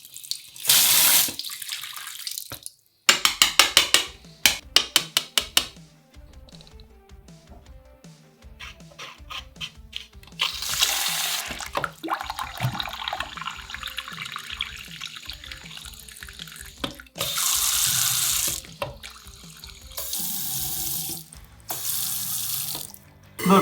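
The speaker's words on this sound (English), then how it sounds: "And it's currently filling up with water." A kitchen or bathroom faucet runs in repeated bursts, filling a sink with gushing, splashing water that comes and goes, with clattering handling sounds between the pours.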